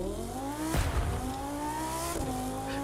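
An Audi R8 V10 sports car in the racing game The Crew 2 screams at high revs, its engine tone sweeping through two gear shifts with brief broadband bursts between them, loud and continuous.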